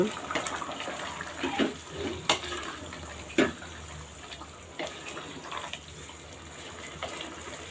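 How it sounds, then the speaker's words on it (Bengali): Hot water pours and splashes into a cooking pot, a steady rushing stream broken by occasional clinks and knocks, close and moderately loud. "আমি এখন গরম পানি দিব কিন্তু গরম পানি করে রেখেছি"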